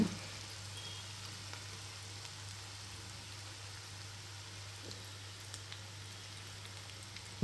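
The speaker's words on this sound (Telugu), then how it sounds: "పిండి అంతా కూడా ఇలానే వేసేసుకొని మంచి కలర్ వచ్చే వరకు వేయించుకుంటే సరిపోతుందండి" Cornflour and spring onion pakodi fry in hot oil, giving a steady, soft sizzle and crackle that runs evenly throughout, with a brief louder clatter at the very end.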